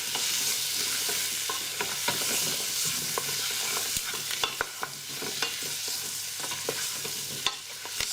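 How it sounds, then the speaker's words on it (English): A spoon stirs pumpkin soup in a pot, scraping steadily with faint sizzling underneath and small clicks against the pot, close and continuous with no talking. "Give that a little mix around."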